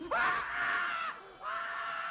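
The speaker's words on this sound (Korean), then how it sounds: "발작에 가까운 비명에 그는 겨우 레이먼드를 달랩니다" A man screams in a near-seizure fit at an airport in the film Rain Man, refusing to board a plane: two loud, strained, sustained screams, the first longer, separated by a short gasping break.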